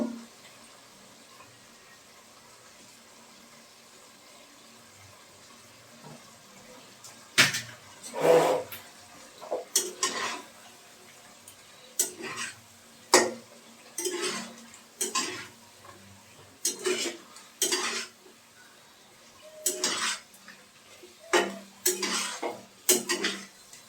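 Scraping, clinking strokes of a utensil against a pan as moringa drumstick stalks are turned through poppy seed paste, coming in irregular bursts that grow busier after a quiet start, close and clear.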